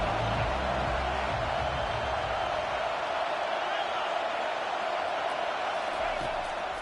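A stadium crowd in a video football game roars steadily after a big defensive hit on third down, a dense unbroken wall of cheering noise that holds at one loudness throughout.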